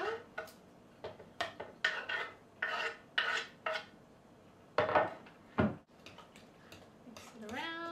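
A knife cuts smoked salmon finer on a board, a run of short, close scraping and chopping strokes in irregular bursts with pauses between.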